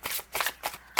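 Empathic oracle cards being shuffled by hand, several quick crisp riffling bursts in close succession, loud and near with no voices.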